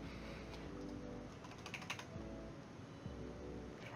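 Keystrokes tapped on a computer keyboard with an enter press, light clicks in a short uneven run at close range, no voices.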